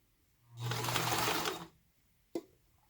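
A sewing machine runs steadily for about a second while stitching a zipper tab onto a fabric zipper pouch, then stops, followed by a single short click.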